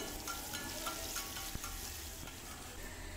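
Whole small shallots, about ten, frying in oil for hotel-style tiffin sambar, a steady dense sizzle with occasional stirring scrapes and clicks throughout.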